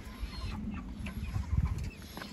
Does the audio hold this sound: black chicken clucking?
yes